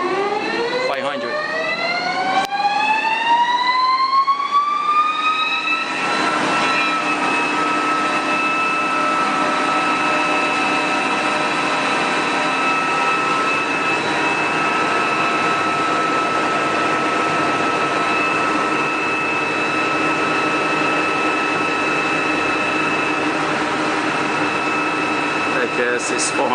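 A Haas TL3B big bore lathe spins up into high gear, its rising whine climbing in pitch over several seconds, then settling into a loud, steady mechanical hum with tonal whirring that continues throughout.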